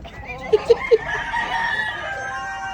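A rooster crows loudly nearby, preceded by three short clucks, with other chickens faintly clucking in the background.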